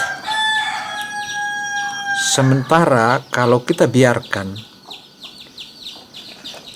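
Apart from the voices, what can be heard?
chicken sounds during chick hatching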